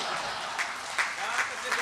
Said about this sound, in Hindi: तालियां कम है अभी आपकी